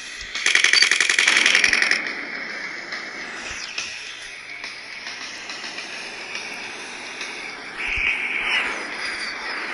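Rapid machine-gun fire bursts in an Air Combat aerial dogfighting game, loud and dense at first, then fading into sustained engine and ambient drone with a second shorter burst later; no talking.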